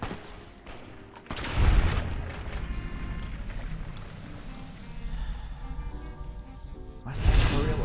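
Two heavy shotgun blasts from Fallout: New Vegas, one near the start and one near the end, each a loud booming burst over a steady low rumble, with a voice talking in between.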